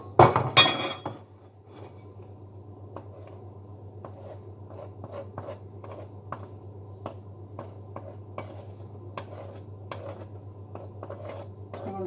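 A knife scraping and leveling flour in a measuring cup, an initial clatter and clink followed by a steady series of faint, light scrapes and taps over a low hum.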